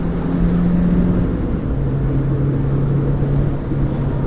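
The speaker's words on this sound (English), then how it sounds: "Miata's still accelerating quite well" Mazda Miata NB pulling hard uphill out of a tight corner on a canyon road, a steady loud engine drone with a rising tone, heard from inside the car with no talk.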